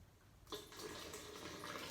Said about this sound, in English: It goes in there too, and a small amount of water, not too much.